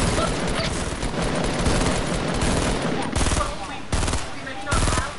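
Minigun fire in a PS4 shooter game rattles out in loud, rapid continuous bursts close at hand, broken by a few short pauses.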